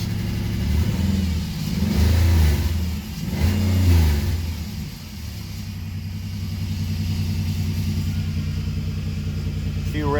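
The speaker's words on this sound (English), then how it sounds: "A few revs and she fires up." A high-mileage 2006 Chevrolet Impala 9C1, an ex-Norfolk police car, has its engine revved a few times up close with a deep rumble, then settles into a steady idle.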